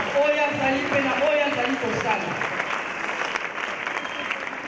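Audience applause at an official ceremony marking an apostle's 35 years of ministry, a steady wash of clapping that stays fairly loud throughout, with voices and cheering mixed in near the start.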